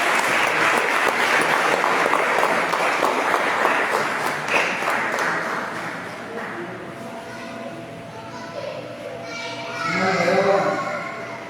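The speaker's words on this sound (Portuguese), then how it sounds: "E vamos aplaudir o Senhor" Congregation applauding in a church service, a dense sustained wash of clapping for several seconds that thins out, with voices and church sounds continuing beneath as it fades.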